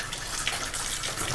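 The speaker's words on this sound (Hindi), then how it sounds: "पहले आलू के लै छी धोए थोड़ा पानी में।" Potatoes are washed in a little water in a home kitchen, giving a continuous close splashing and gushing, like running tap water, with no voices.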